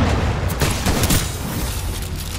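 A grenade going off in a Titanfall 2 match: a loud, close burst of booming thuds in the first second, followed by a rumbling fade.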